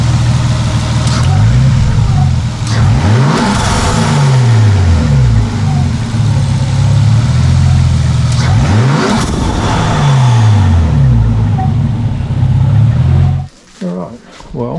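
A Nissan R33 Skyline engine revs loudly and close by after a throttle flip, its pitch swooping up and down several times before settling into a steady idle, then cutting to a short muffled thump.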